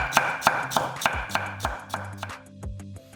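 A knife cuts washed cabbage into thin 0.3 cm strips on a cutting board, a run of about ten crisp, evenly spaced chops up close that gradually slows.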